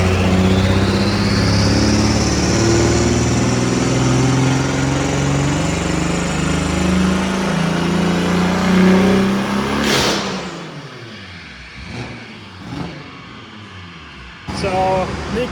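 A BMW F80 M3 fitted with a cheap single-turbo kit runs loud and steady, turbo whistle rising over the engine drone before the revs drop and a few sharp pops and bursts follow.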